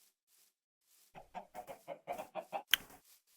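Minecraft chickens cluck in a quick run of about eight soft, evenly spaced bursts, followed by a sharper, brighter squawk near the end, close and alone with no talk.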